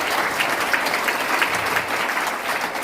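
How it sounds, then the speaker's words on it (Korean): Steady applause from the audience at a Korea–Israel summit forum: a full, continuous patter of many hands clapping, fairly loud and even, holding at the same level for nearly three seconds. "일단 먼저 박수 한번 주시죠"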